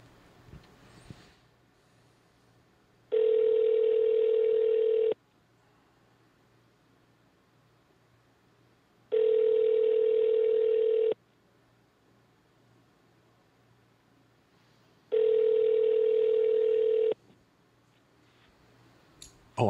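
Outgoing phone call ringback tone from a Los Angeles area number: three evenly spaced two-second rings with quiet gaps between them, clear and steady, with no talking over them.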